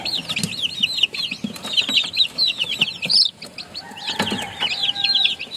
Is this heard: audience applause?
no